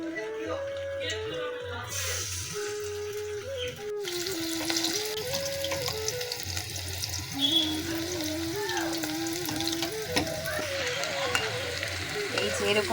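Food sizzles steadily in white oil in a wok, a continuous crackling hiss with occasional stirring scrapes, under light background music.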